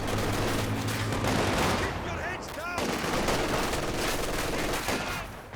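Machine gun fire from the World War II strategy game Company of Heroes 2, in a winter 3v3 match, dense continuous bursts and battle noise filling the whole stretch, with a voice talking briefly over it.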